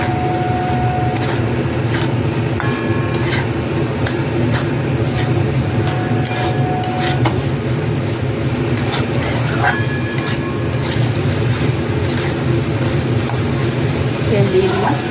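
Vegetables for a fish oil curry with potato and eggplant fry in oil in a pan over a high gas flame, a steady loud sizzle with light clinks from stirring, under occasional talk.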